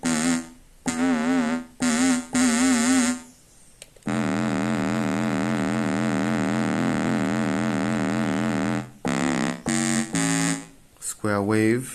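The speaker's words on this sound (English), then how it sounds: "Square wave." A synthesizer square wave plays hollow, reedy tones in choppy bursts, then a long sustained note with slight wavering pitch, followed by more short stabs and a quick pitch sweep at the end.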